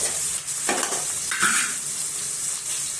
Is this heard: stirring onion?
yes